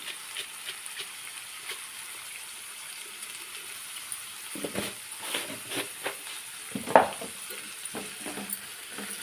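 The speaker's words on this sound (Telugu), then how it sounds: "ఉల్లిపాయలు వేగుతూ ఉంటాయి" Quiet, steady hiss of onions frying in a pan, joined midway by occasional scraping and stirring knocks; no talking.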